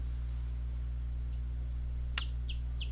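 Baby chicks held in hand let out two brief, high chirps near the end, over a steady low electrical hum with one sharp click just before.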